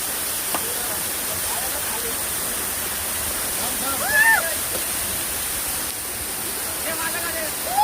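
Waterfall at Bhatwadi, Ghatkopar, a steady, close, roaring rush of falling water, with a few brief voices calling out faintly over it.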